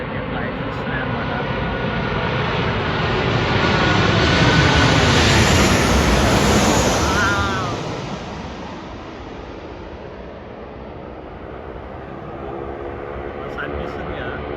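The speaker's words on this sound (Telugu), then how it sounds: "ఫుల్ సౌండ్ వస్తుంది. విమానాల సౌండ్" Airliners approach at the Melbourne Airport viewpoint: a broad jet engine roar swells as a plane passes close overhead, peaks, then fades to a lower steady rumble.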